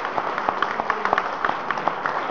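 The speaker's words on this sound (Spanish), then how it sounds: "¡Fuerte el aplauso a la Virgen de Fátima!" A church congregation applauds the Virgin of Fátima during a Sunday Mass, with dense, steady clapping and a few louder claps standing out across the whole stretch, at moderate volume in a reverberant space.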